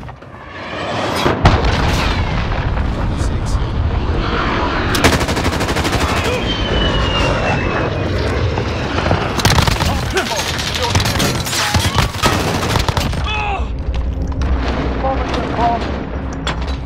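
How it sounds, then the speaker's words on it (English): A cruise missile strike in Call of Duty Warzone, with loud, close booming blasts amid rapid machine-gun and gunfire bursts, mixed with game noise and a voice talking over the chaos. "cruise missile away."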